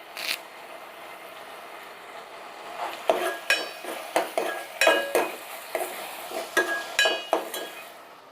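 Curry leaves hit hot oil in a pan, giving a soft steady sizzle under repeated sharp metallic clinks and scrapes from a spoon stirring against the pan.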